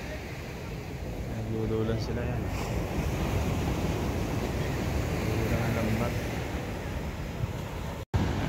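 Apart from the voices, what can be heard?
big ocean waves on the beach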